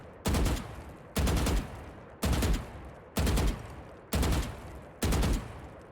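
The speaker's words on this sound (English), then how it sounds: "if I burst a couple of bullets and I respect the reset times" Short bursts of gunfire from a gun in Valorant, six evenly spaced loud bursts about a second apart, each a rapid cluster of shots cut off cleanly, with quiet gaps between.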